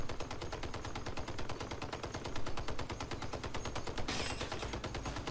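Rapid automatic weapon fire in the vehicle combat game Crossout, a dense, continuous rattling burst of shots from a wheeled build, loud and close throughout.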